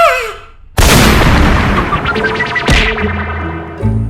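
Video game gunfire erupts as a single loud, close blast followed by a ringing, crackling decay and a second sharp burst, with electronic tonal game sounds at the start and end.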